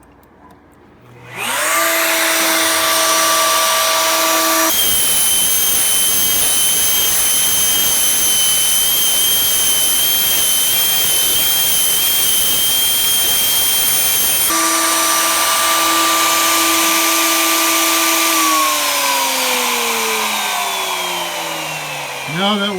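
A DIY Gatton CNC machine cutting its first test piece gives off a loud, continuous high-pitched spindle whine, first with steady tones, then with a rougher cutting roar, then with steady tones again as the pitch falls at the end.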